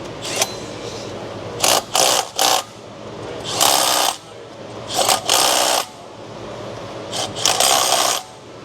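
A ratchet wrench tightens 10 mm bolts on a high-mileage Ford 5.4 Triton three-valve engine during timing chain repair, bursts of rapid clicking in short repeated runs separated by quiet pauses, close and crisp.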